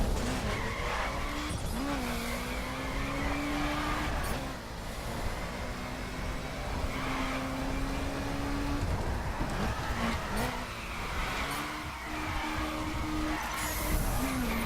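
Subaru BRZ drifting through a summit drift event in The Crew racing game, long screeching tire squeals over a steady engine drone, close and loud, held for several seconds at a time with brief breaks.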